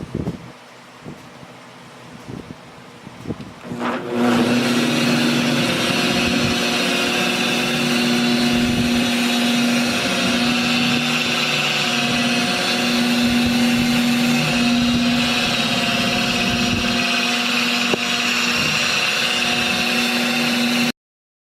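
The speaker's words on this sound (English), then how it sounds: "this 7-inch back plate and backing plate on this Chicago Electric power tool polisher" A Chicago Electric power polisher fitted with a 7-inch backing plate starts up after a few quiet seconds, then runs with a steady whining motor hum that holds constant and close until it cuts off at the end.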